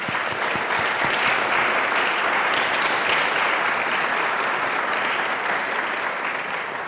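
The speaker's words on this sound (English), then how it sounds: "Let's give them a round of applause." Sustained audience applause at an academic symposium, a full, steady roar of many hands clapping for several seconds that tapers slightly toward the end.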